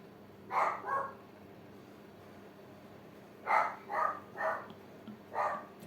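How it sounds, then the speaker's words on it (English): A dog barks indoors in two separate bursts: a pair of sharp barks, a pause, then a quicker run of four, moderately loud over a quiet room hum. "this dog is kind of... she's barking"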